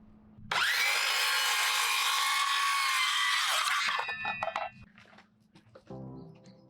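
A power saw bites into wood for trim with a loud, sustained whine lasting about three seconds, then winds down, followed by faint knocks and handling sounds.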